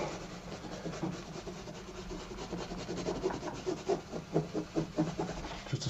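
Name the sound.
rubbing oil paint on canvas with a tissue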